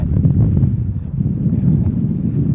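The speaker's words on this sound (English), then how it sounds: "I'm standing behind the trailer trying to break some of the wind." Strong wind gusting across an open highway under fast-moving clouds, a steady low rumbling roar buffeting the microphone throughout, loud and unbroken with no talking.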